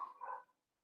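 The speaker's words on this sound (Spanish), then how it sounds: "mis perros" A dog gives a single short, faint bark or yip in the background during a lecture, fading quickly into silence.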